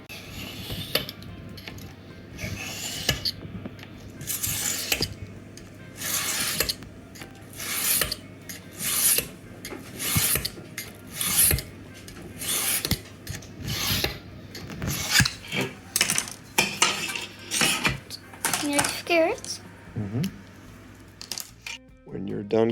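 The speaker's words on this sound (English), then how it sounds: "start cutting again with the knife" A knife blade scores a plexiglass sheet along a marked cut line in a series of close, rasping scraping strokes, repeated irregularly and fairly loud, with brief pauses between passes.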